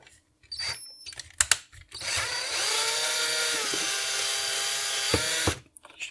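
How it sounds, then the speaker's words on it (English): A power tool whirs steadily for a few seconds while opening the case of a vintage PowerBook 150 laptop, bracketed by clicks and small handling knocks before and after. "So let's use my power tool and open the case up"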